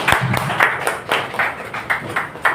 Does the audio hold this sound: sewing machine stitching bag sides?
no